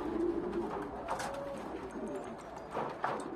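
Soft, low cooing of fancy pigeons, such as pouters, over a constant background murmur, with a few light clicks and taps mixed in.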